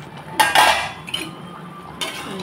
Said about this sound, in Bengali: ঢাকনা খুলে দিলাম